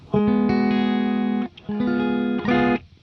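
An electric guitar plays through a Marshall JCM 800 2203 reissue amp with the preamp gain maxed but the guitar volume rolled down, giving a cleaned-up tone. Two sustained chords ring out, each followed by a brief strum, close and without talk.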